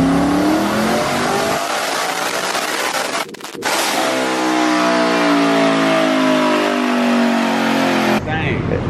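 A stock-engine twin-turbo Mustang GT, built for around 1,100 horsepower, roars at full throttle through a sustained dyno pull, loud and steady, with a brief dip midway and an abrupt cutoff near the end.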